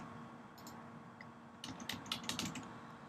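Keystrokes on a computer keyboard while entering text in editing software, a quiet scattered patter growing into a denser burst of clicks near the end.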